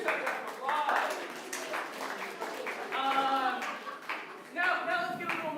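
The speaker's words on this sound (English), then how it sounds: "You should get some applause." Audience applause at a live improv comedy show, a crowd clapping steadily for several seconds with busy, dense hand claps and a brief swell near the end.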